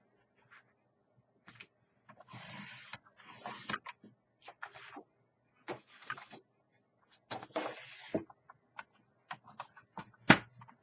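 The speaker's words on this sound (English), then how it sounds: "So I'm going to cut this at 3 inches." Card stock being cut on a paper trimmer: a couple of longer rasping slides of the blade mixed with sharp clicks and taps, close and alone in a quiet room.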